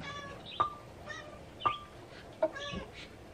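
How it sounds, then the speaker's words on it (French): A cat meows three times in short, distinct calls spaced about a second apart, fairly close and clear over a quiet room background in a party game. "La chat qui miaule."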